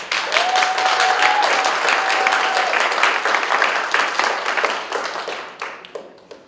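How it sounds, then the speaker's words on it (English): An audience at a literary spoken-word event breaks into warm applause, a dense sustained round of many hands that holds strongly, then thins out and fades over the final seconds. "Please give a warm round of applause to Moniz Aguilar."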